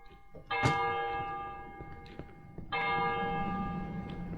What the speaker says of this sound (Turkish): Bu çan farklı çalıyor.